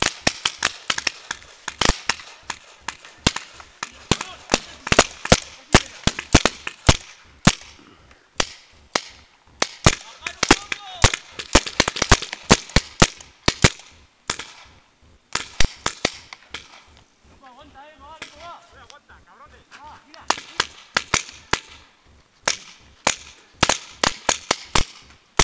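Paintball guns in an outdoor paintball game, popping in rapid, irregular sharp cracks throughout, some close and loud, others farther off, with shouting players heard faintly in between.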